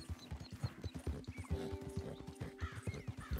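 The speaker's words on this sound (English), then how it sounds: "That's a horse." Horse hooves clip-clop in steady, rapid rhythm in the video game Red Dead Redemption 2, a quiet run of evenly spaced thuds with a faint sustained tone partway through.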